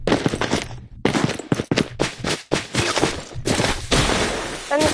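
Rapid bursts of automatic gunfire in Call of Duty Mobile, loud and close, firing in choppy volleys broken by short gaps, followed by a steadier roar near the end.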